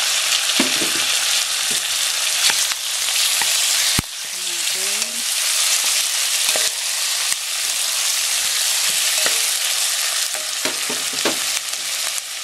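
Pork sizzles and fries steadily in a hot pan for Japanese-style curry rice, with a bright continuous crackle and occasional stirring scrapes and clinks close by.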